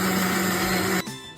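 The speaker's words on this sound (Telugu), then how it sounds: "ఇది క్యారెట్, టమాటా, అల్లము చేసుకొని మిక్సీకి వేసుకొని బాగా పట్టాలి" Mixer grinder blending carrot, tomato and ginger into juice, a loud close motor whine that cuts off abruptly after about a second, leaving a quieter tail.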